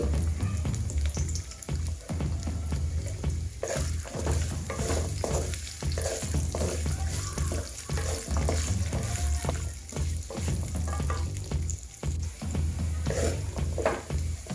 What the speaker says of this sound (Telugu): అందులో మనము కడిగి శుభ్రం చేసుకున్నటువంటి 250 గ్రాముల అల్లాన్ని వేసి బాగా వేయించుకోవాలి.